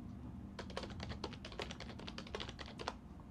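Someone types a password on a computer keyboard while installing Openbox on Arch Linux, a quick burst of closely spaced key clicks at moderate volume over a low steady background hum.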